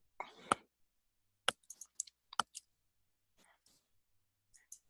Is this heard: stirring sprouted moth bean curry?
no